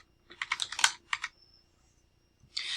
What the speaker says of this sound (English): That's where I'm going to type in here, primary contact.